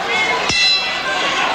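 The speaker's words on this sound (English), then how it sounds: "And here's the action just as they came to the final bell." Boxing round bell at a heavyweight bout in Atlantic City, a single bright clang near the middle that rings on over steady arena crowd noise.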